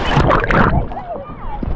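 Water sloshes and splashes around a small boat in strong waves, loud and close, with voices talking over the choppy wash.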